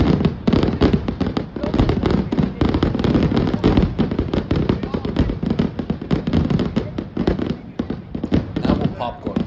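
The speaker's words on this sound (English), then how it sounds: "Fireworks in the background." Fireworks crackle and pop in a dense, continuous barrage behind two NASCAR drivers fighting after an all-star race, with a voice talking over the noise throughout.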